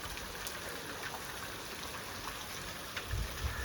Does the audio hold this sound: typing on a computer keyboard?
no